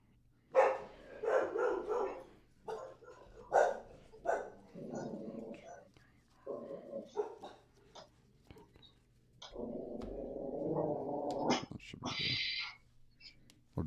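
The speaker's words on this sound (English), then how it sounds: "Oh, dogs are talking." Dogs bark in short irregular bursts spread throughout, some yips and louder barks mixed with whimpering sounds, fairly faint and distant-sounding with a few quieter gaps between.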